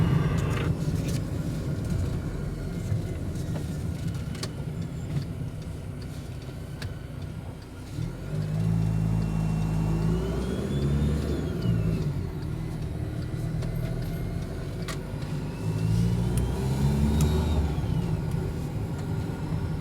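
A car drives along a road in the Canary Islands, with a steady, continuous engine and road rumble throughout and a low hum that rises slightly partway through.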